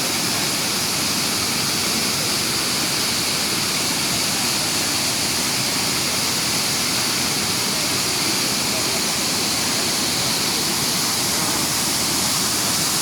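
Hogenakkal Falls in heavy flow pours forcefully, a loud, steady, unbroken roar of crashing water filling the whole clip with no pause or change.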